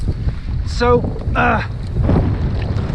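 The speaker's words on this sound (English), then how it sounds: "wind is so hard, it's blowing even when I sail out." Strong wind roars against the microphone while sailing a Hobie Tandem Island, a constant low rush with water sounds under it and brief voices breaking through.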